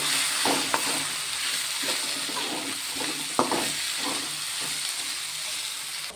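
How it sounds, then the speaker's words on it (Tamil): Potatoes sautéing in a pan, a continuous sizzle with scraping stirs and a few sharp utensil clicks, fairly close and steady; no talking. "உருளைக்கிழங்கு போட்டு ஒரு வதக்கு தான்"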